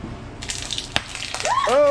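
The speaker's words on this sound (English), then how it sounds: "And we rinse it out." Tap water splashes and rushes briefly over vegetables being rinsed in a kitchen sink, with a voice rising in a tonal sound near the end.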